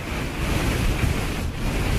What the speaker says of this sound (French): En milieu d'après-midi, le vent se lève brusquement.